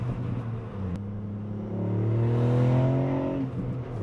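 A Ford Fiesta ST Mk8 with a three-cylinder turbo engine of 200 horsepower accelerates hard, its loud rising drone climbing steadily through the gears from inside the cabin, with a brief shift dip, no talking.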